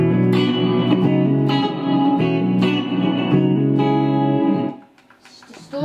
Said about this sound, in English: This has got some reverb.